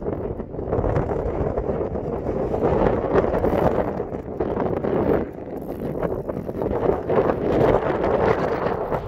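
Strong side wind buffets the microphone on a rugged Atlantic coastline during a mountain bike ride on the Isle of Lewis, a loud continuous roar with gusty surges throughout and no talking.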